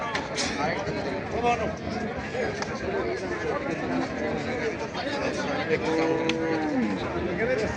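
Cows moo repeatedly at a busy cattle market, some calls near and others farther off, over constant crowd chatter and nearby voices.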